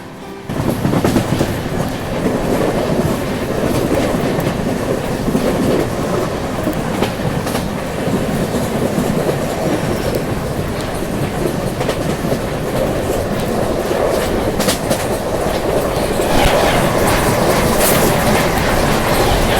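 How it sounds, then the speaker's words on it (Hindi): The Raigarh–Nizamuddin Gondwana Express passes close by, a loud continuous rumble of rolling coaches with steady clickety-clack from the wheels on the rails for the whole stretch, with no talking. "ये मेरे ख्याल से रायगढ़ निज़ामुद्दीन गोंडवाना एक्सप्रेस है"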